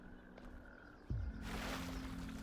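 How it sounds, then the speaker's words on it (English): Digital frogs croak in the video game The Talos Principle 2, a faint, synthetic-sounding call with a low descending tone, set against a soft steady ambient hum. "Are these digital frogs?"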